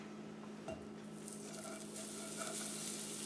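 Butter sizzles in a frying pan on the stove for fried eggs, a soft steady crackle near and low with a brief clink of the pan early on.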